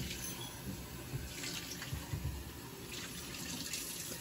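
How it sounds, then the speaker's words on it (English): Water runs from a kitchen tap into cups that will be poured into a coffee maker, a steady, soft hiss with slight splashy shifts as the cups fill, heard alone without talk. "So they're going to fill their cups up with water"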